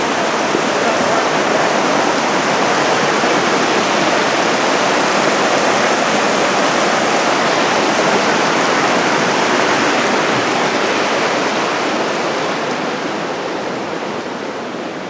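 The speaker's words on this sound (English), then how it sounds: "we're crossing the bridge over Talapus Creek" Talapus Creek rushes steadily and loudly beneath a trail bridge, a dense, unbroken wash of water that eases off slightly near the end.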